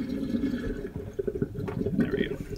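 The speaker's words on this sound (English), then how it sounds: "Gotta let some water out." Water drains from a kitchen sink during dishwashing, gurgling and splashing softly at close range, with small drips and trickles shifting throughout the brief stretch.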